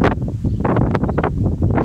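Steady wind buffets the microphone, a continuous low roar with gusty flutters, loud and close, no talking.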